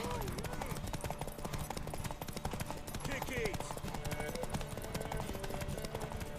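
A horse gallops in The Witcher 3, its hooves clip-clopping in a fast, rapid rhythm beneath loud shouting voices and game music, with a brief neigh partway through.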